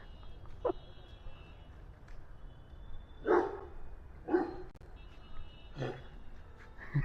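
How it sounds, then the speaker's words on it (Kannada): A dog barks on a Bangalore street: about five separate barks spaced a second or two apart, moderately faint and somewhat distant, over a low background hum. "ಹಿಂದೆಗಡೆ ನೋಡಿ ಡಾಗ್"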